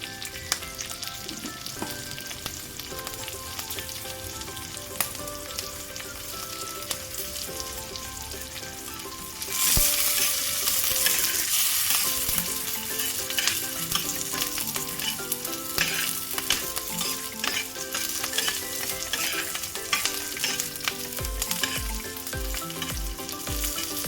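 Green chilies and cumin seeds sauté in hot oil in a pan, a continuous crackling sizzle with scraping stirs, growing louder and more vigorous partway through as the pan heats up, with no talking.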